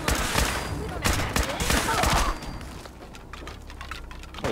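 Gunfire in the video game Fallout 4: dense, loud rapid shots and booming impacts in the first half, easing into scattered lighter pops, with a person talking under them.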